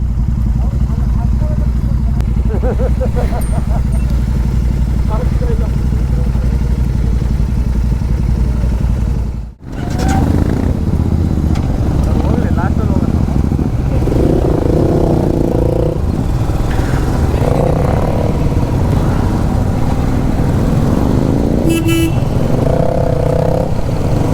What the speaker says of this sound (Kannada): ಇಪ್ಪತ್ತೇಳು ಬೈಕ್ ಒಂದೇ ಸತಿ ಹೋಗ್ತಾ ಇದೀವಿ